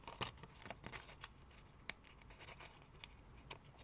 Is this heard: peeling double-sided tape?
yes